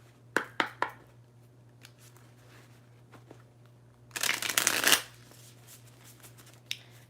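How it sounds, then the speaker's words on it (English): A deck of tarot cards is riffled in a few quick flicks, then one longer, louder shuffle, with quiet pauses between. "Get a good shuffle on it."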